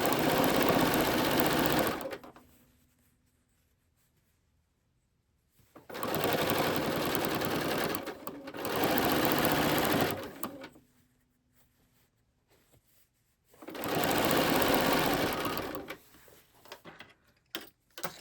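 A sewing machine stitches down faux flange binding in three separate bursts of steady, close mechanical whirring, each a few seconds long, with quiet pauses between them.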